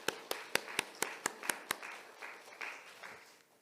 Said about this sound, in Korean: 우리 수고하신 모든 분들 박수 한번 하겠습니다.